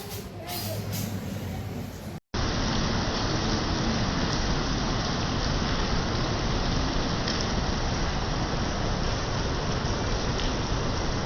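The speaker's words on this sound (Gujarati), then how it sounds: "તો ભાઈ વરસાદ થઈ ગયો ચાલુ ચકાટક." Heavy rain pouring down outdoors, a dense continuous hiss that stays loud and even after a brief cut near the start, no talk.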